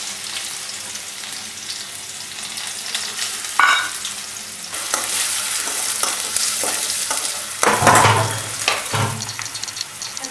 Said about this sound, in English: On mélange avec une pomme de terre et des oignons.